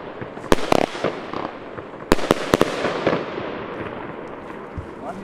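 Fireworks bursting outdoors: several sharp, loud cracks spread over a few seconds, with crackling and a rushing background and people talking nearby.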